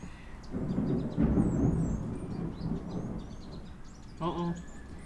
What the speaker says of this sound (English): Sounds like we've got some thunder rolling into Johannesburg outside here.